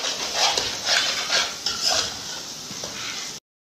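Chaat masala stirred into masala fried eggs in a pan makes close, rhythmic scraping and rubbing strokes over a steady sizzling hiss, then cuts off abruptly.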